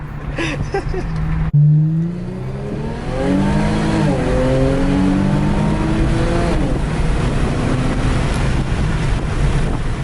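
An Infiniti Q50 fitted with K&N intakes accelerates hard, its engine note rising and falling through gear changes under heavy wind buffeting, loud and close from inside the car.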